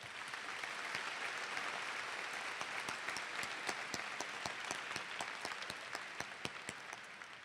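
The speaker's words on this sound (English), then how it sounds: "let's give them a round of applause." A student convocation crowd gives a steady round of applause, quiet and distant overall, with individual sharp claps popping out close by.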